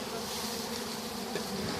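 Bees swarming steadily around a hive box during a removal, a dense continuous buzz of many insects up close with no talk over it.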